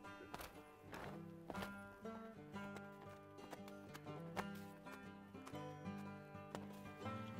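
Horse hooves clip-clop in an irregular rhythm as horses are conditioned to carry weight under a rider, sharp close hoofbeats over a steady low tonal background, with no voices.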